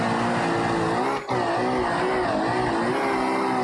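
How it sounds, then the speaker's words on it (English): Rally car engine in BeamNG.drive at the RedRock Raceway rallycross event, with a steady, loud, buzzing drone held nearly flat for several seconds and one brief dip as the throttle lifts before it returns to full power. "Listen to the engine here."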